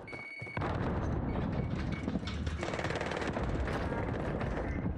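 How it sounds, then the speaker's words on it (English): In Call of Duty Warzone, a grenade blast opens a dense roar of gunfire and explosions that stays loud and continuous, with a brief quiet moment just before it. "Throwing grenade!"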